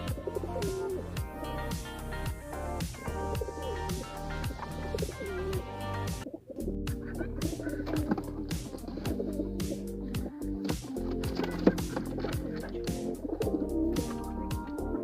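Repeated low, throaty cooing from several pigeons close by, overlapping in steady rounds with a few faint chirps.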